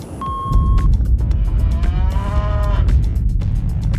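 A cow lets out a loud, drawn-out moo close by, rising and holding for a couple of seconds over a rumbling, noisy background.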